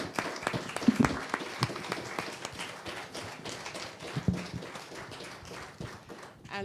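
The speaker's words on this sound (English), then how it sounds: "please give a round of applause for Keisha and Christine." Audience applause at a fireside chat event in Barbados, a crowd clapping steadily with scattered sharp claps and taps, fairly faint and continuous throughout.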